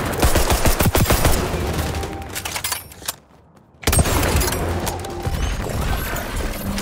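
Gunfire in the video game XDefiant: dense, rapid bursts of loud shots with clattering impacts, then a short near-silent gap before the shooting resumes.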